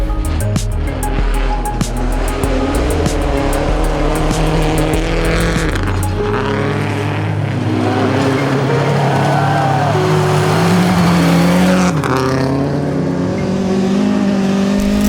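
Rally cars at a 2016 Baie des Chaleurs rally sweep through corners at speed. Engine roar stays loud and continuous throughout, rising and falling as they pass close by. No distinct tire squeal stands out.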